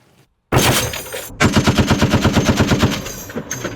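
A machine gun firing in automatic mode during tactical and firing training of Ukrainian scouts, a loud single shot followed by a rapid sustained burst of about a dozen evenly spaced rounds, close and sharp.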